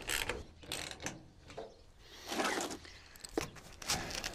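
Ratchet clicking in short bursts while the rear clamp of a Truxedo Truxport tonneau cover is tightened on a truck bed, close and fairly faint, with brief pauses between strokes.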